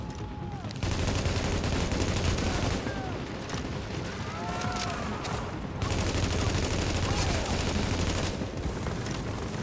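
Enemy gunfire in The Division video game: dense, sustained bursts of automatic weapon fire with overlapping shots rattling almost continuously, with brief lulls.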